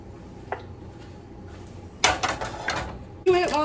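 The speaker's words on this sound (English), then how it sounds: "So I'm gonna drain off some of this grease." Grease being drained from a pan of cooked meat: a small knock, then clattering pan and utensil scrapes with a splashy pour, ending in a louder metallic clank and sizzle, all fairly close.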